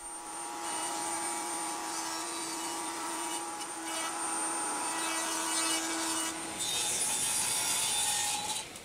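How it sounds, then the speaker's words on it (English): Wood router fitted with a round-over bit runs continuously, cutting along the edge of a board for a pegboard tape measure shelf. It is loud, close and steady, a high whine that shifts slightly in pitch as the bit cuts. "I've got a round over bit in here, and it's all set up to run this."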